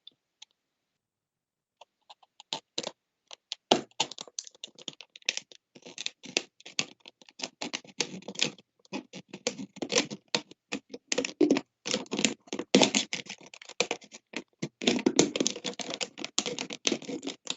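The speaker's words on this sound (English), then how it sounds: "we want to get rid of this part of the bottle. Okay. So let's just cut it real quick." A box cutter cuts through a plastic bottle with close, irregular crackling and scraping, starting sparse and becoming denser and louder.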